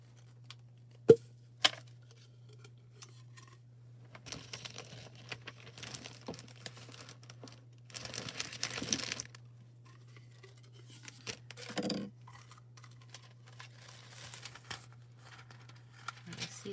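Crinkly plastic packaging around a gold shattered glass stamp is torn and rustled open in fits and starts, with sharp crackles and longer crumpling bursts, close and fairly quiet over a low steady hum.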